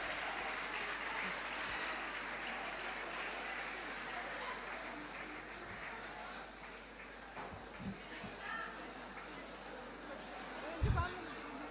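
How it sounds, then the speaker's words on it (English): A crowd applauds at length to welcome a singing team before an invocation song at a motivational event in Bengaluru, a dense steady clapping that thins toward the end, with a few louder knocks and brief voices near the close. "A huge round of applause for them"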